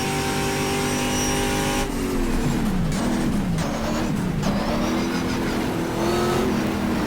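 Race cars in the GTR2 racing game during a 1987 WTCC touring car event at Mount Panorama. Engines roar loudly and continuously, their pitch climbing and dropping through repeated gear shifts.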